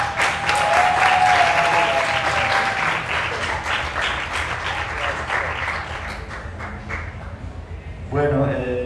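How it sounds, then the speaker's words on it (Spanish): Audience applause at a symphonic lecture series session, dense steady clapping from a seated crowd that gradually thins out, followed by a speaker's voice at the end. "Un otro aplauso."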